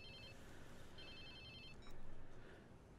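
A phone rings inside the video game Watch Dogs 2, two short electronic trilling bursts sounding faintly over a dense, noisy game background.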